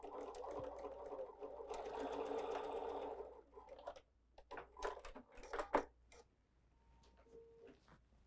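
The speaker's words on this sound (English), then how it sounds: "Let's sew our 1/4 inch." A sewing machine runs a quarter-inch quilt seam with a seam guide while piecing a log cabin quilt, a steady close whir for about three seconds, then stops and gives way to scattered handling clicks and taps.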